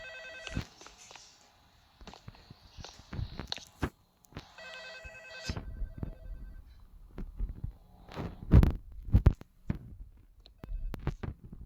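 A telephone rings in bursts inside a home, its repeated electronic tones sounding near and moderately loud. Footsteps and clattering fill the gaps between rings.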